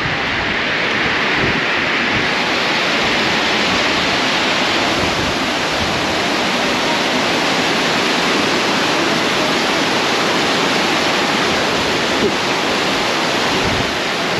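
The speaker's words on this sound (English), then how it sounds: "So here is the dam." Water rushing over Wawa Dam in Rodriguez, Rizal, a loud, steady, dense roar of falling water that fills the scene without a break.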